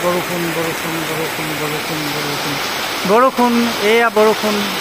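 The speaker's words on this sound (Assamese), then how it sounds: "ধুনীয়াকৈ চাদৰ মাজেৰে বৰষুণ যাক পৰি আছে" Autumn rain falls steadily off a roof as a constant broadband wash, while a voice carries on a sustained, tonal line over the downpour.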